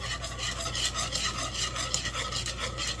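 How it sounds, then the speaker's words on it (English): A spoon scrapes and stirs steadily through boiling Concord grape jelly with pectin in a pot, a continuous close rubbing with faint bubbling underneath and no talk. "So let me keep this stirring here for the full minute."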